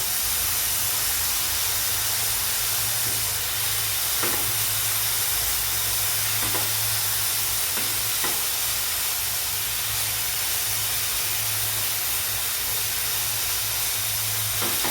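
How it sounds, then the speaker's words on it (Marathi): Potato and colocasia leaves frying in oil over a high flame give a steady, loud hiss that runs unbroken throughout, with a few faint clinks or stirs and no voices. "गॅस मोठा करून बटाटा आणि आळूची पानं ही चांगली अशी दोन मिनटं तेलावरती परतून घेणार आहे"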